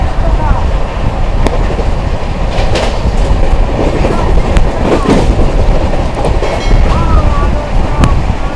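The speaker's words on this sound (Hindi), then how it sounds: "अपनी फुल रफ्तार में सियालदह अमृतसर जलियांवाला बाग एक्सप्रेस 130 की रफ्तार में चल रही है इस समय।" The Sealdah–Amritsar Jallianwala Bagh Express runs at full speed, around 130 km/h, filling the air with a loud, continuous rumble, rhythmic clickety-clack of wheels over rail joints, and rushing wind noise throughout.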